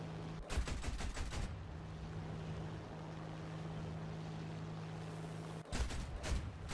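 A tank in a video game fires stealth rounds in two quick bursts of rapid shots, one near the start and one near the end, with a steady engine drone and hum between them.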